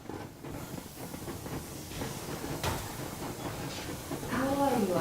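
A steam locomotive in the video game Metro Exodus rolls along with a continuous hiss of steam and low rumbling, building slightly louder, with a rising whistle-like tone near the end.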